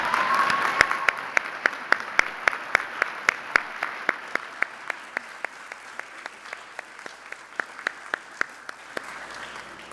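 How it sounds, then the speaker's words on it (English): An audience at an education awards ceremony applauds the honorees' families, steady hand claps with a few individual claps standing out sharply, moderately loud and gradually tapering over ten seconds. "would you please stand so we could give you a round of applause"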